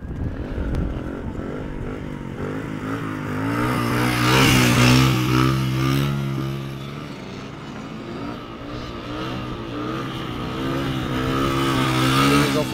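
A motorcycle engine revs repeatedly during a wheelie training course, rising and falling in pitch over several pulls, moderately close and mostly alone.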